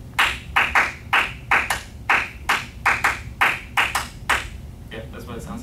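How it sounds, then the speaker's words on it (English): Close, crisp hand claps beat out a Euclidean rhythm twice in a row, an uneven pattern of about fifteen sharp claps with a short gap between the two rounds. "Let me just clap you the rhythm twice so you can see what it sounds like."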